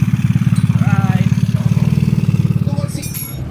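A 188cc motorcycle engine idles after a tune-up with a fast, even, loud putter close by, and a voice speaks briefly over it toward the end.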